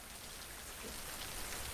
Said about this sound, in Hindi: बाहर काफी तेज बारिश हो रही है